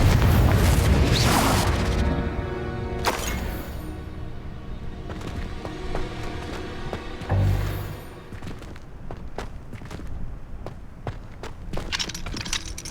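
Confringo blast spell going off in the Hogwarts Legacy video game, a loud booming explosion that rumbles and fades over a couple of seconds, followed by scattered thuds and clatters.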